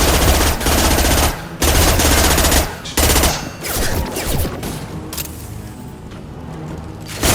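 Gunfire in the video game Mass Effect 2: loud, dense bursts of automatic fire broken by brief pauses. The shots thin into scattered, quieter shots toward the end.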